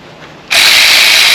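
A power tool suddenly whirs into action to unscrew the stanchion fasteners, a loud close ratcheting buzz that kicks in after a brief quiet pause and keeps running.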